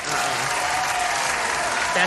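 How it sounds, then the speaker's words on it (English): A brief burst of hand-clap applause during a live online show: a dense, even patter of clapping lasting about two seconds with a voice faintly beneath it. "let me definitely give you a hand clap on that"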